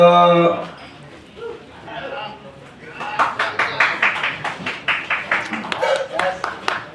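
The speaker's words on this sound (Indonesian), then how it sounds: "Beri tepuk tangan yang paling meriah untuk Pentas Jenaka" Audience at a comedy stage show, a burst of clapping that builds into rhythmic, even claps in the second half, following a voice at the start.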